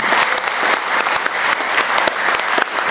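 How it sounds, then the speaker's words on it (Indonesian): Loud, sustained applause from a crowd at a corporate gathering, many hands clapping in a dense, even roar with a few sharper individual claps standing out, steady from start to finish. "tepuk tangan buat teman-teman Bojonegoro"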